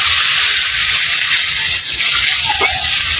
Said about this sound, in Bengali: আমি একটু জল দিয়ে নিলাম মশলাটা